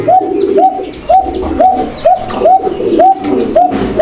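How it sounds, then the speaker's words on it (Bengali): Pigeons coo at a seller's poultry and pigeon stall, a loud, close, regular series of rising coos repeating about twice a second with no talk over them. "ওরা ডাকতেই থাকে ডাকতেই থাকে"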